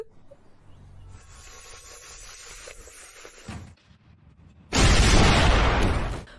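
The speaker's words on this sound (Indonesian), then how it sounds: "Diam-diam ia mencampurkan bahan kimia di dalam lab yang membuatnya meledak." A loud, sudden laboratory explosion from mixed chemicals: a blast of broadband noise erupts after a few seconds of low rumbling and hiss, then roars on briefly before cutting off.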